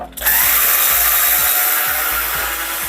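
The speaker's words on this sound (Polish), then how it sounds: "Musicie przeżyć obsługę wkrętarki" A cordless screwdriver drives screws into a PILOT V-1 speaker cabinet at low speed, its motor whining loud and close in one continuous run.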